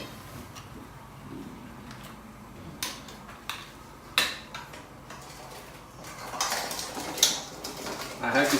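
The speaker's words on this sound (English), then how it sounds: "now in goes the crab" Pieces of blue swimmer crab are added to a curry saucepan and tossed, producing scattered clinks, knocks and rattles of shell against the pan over a low simmer, with brief voice nearby.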